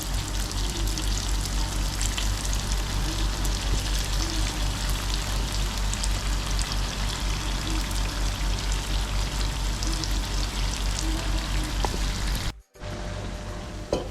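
Unniyappam batter sizzles and crackles steadily in hot oil, a dense, continuous frying hiss heard up close throughout, broken briefly by a moment of near silence near the end.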